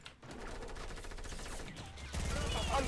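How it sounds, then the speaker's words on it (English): Rapid gunfire rattles in a Fortnite match, bursts of closely spaced shots against the shooting of a building's windows, growing louder and denser near the end. "They're trying to shoot through the windows."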